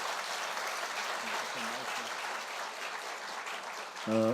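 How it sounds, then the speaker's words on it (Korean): A church congregation claps together in sustained, even applause at a Sunday service, with a few voices faintly underneath and a brief tone near the end. "자, 박수 한번 하십시다."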